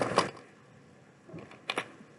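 Keys tapped on a computer keyboard while entering a web address, heard as a short burst of clicks, a pause, then a few more close keystrokes with no talking.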